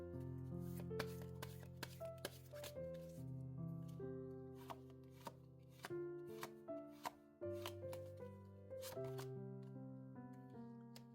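Oracle cards are shuffled for a tarot reading, making soft riffling taps and slaps at an uneven pace under steady background music, with no talk.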